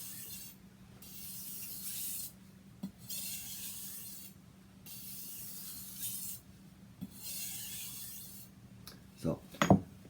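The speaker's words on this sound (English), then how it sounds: "And then I'm going to just use these stropping motions." A knife edge is stropped on a medium grit sharpening stone, giving repeated soft hissing scrapes in bursts separated by short pauses, close and moderately loud, ending in a few sharper knocks.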